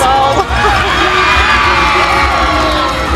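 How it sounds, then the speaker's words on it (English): A crowd at a high school competitive dance event, state-level prelims, cheers and whoops loudly and continuously, with children's shouts and yells rising throughout and some talk blended in. "This crowd behind us is going nuts."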